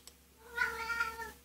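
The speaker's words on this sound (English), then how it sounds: "My cats like to go nuts while I'm recording in the morning." A Devon Rex cat meows once, a drawn-out, moderately near cry lasting about a second against a quiet room.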